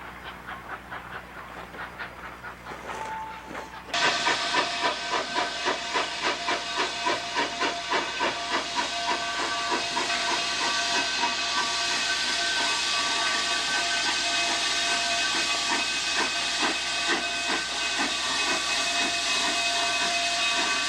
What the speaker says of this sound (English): brought along an Illinois Central whistle that has been mounted on the locomotive